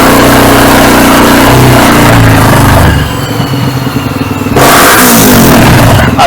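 A motorcycle engine on an Athlon M250 module is revved hard with the throttle pulled, dipping briefly before surging again, loud and close with no talk.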